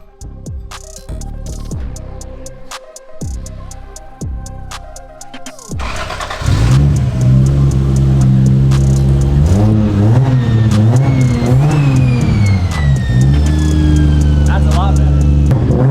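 Toyota Supra MK3 with a 1JZ engine, custom exhaust and intercooler: lighter engine sounds and voices at first, then a loud, deep exhaust roar that holds and swells through repeated revs, close and dominant.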